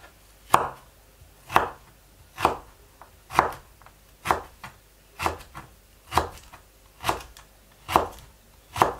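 A knife chopping onion on a cutting board while cooking, about ten evenly spaced sharp chops roughly one per second, close and clear with no talk.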